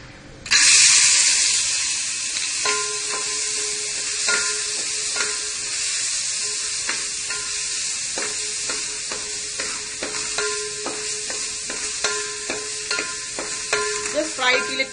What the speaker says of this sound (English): dry fruits which I have to fry in ghee or butter